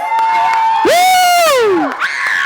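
Crowd at a youth football game cheers a defensive fumble recovery, with loud sustained shouts and a high whooping voice rising over the roar, close and energetic throughout.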